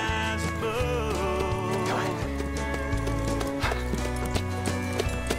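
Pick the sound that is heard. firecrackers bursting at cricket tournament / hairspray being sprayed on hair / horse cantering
horse cantering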